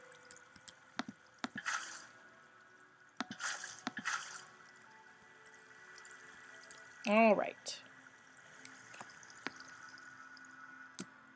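Water rushing and splashing in short broadband bursts from a Minecraft-style game, poured into a monster-trap pit in creative mode, with a quick warbling game tone in the middle and brief talk nearby.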